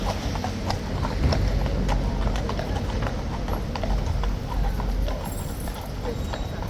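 Police horses walk along a city street near Scotland Yard, their hooves clip-clopping in a steady rhythm of many overlapping hoofbeats over constant traffic and street noise.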